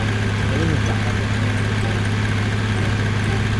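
A modded TG.160 tractor engine in Truck Simulator Ultimate idles with a steady, loud, low drone and a constant hum, continuous throughout, with someone commenting over it.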